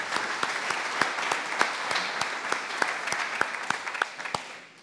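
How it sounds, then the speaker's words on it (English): An indoor audience at a manufacturers' roundtable claps steadily with scattered sharper individual claps, moderately loud, fading out near the end. "So let's give them a round of applause."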